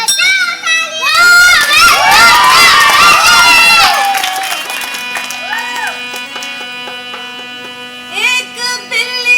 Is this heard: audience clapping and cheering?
yes